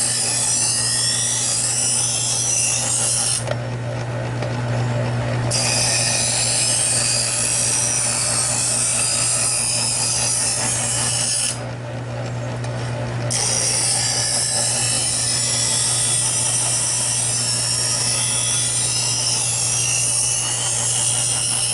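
A chef's knife drawn across a sharpening stone in even strokes, giving a continuous, fairly loud scraping rasp with brief dips between passes.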